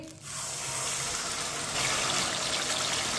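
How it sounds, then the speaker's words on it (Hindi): A steady rush of water pours continuously into a cooking pot of rice and sugar, close and fairly loud, with no voices. "1 कप पानी डाल लेंगे।"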